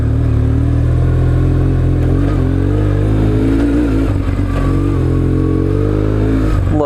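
A loaded BMW R1150 GS motorcycle riding on a backcountry route, its engine droning loud and steady with rising and falling revs and a low rumbling throb throughout.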